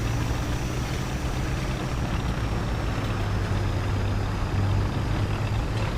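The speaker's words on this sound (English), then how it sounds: "I'm hearing a lot of engines." Low, steady engine rumble from tanks in the War Thunder game, a Swedish Rank VI ground battle, droning continuously at moderate level with no breaks and no voices.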